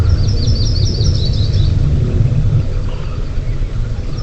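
Songbirds singing in an Arctic park, a run of bright chirping phrases in the first second and a half that fades to faint calls, heard over a steady low wind rumble.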